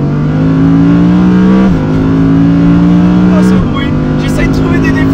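Audi R8 GT V10 engine pulling hard through the gears, a loud sustained howl that climbs in pitch, drops briefly at each upshift and climbs again, heard from inside the car.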